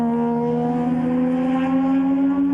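A Mazda RX-7 rotary engine climbs a hill in a race, its strong harmonic tone held high and rising slightly in pitch, loud and close without a break.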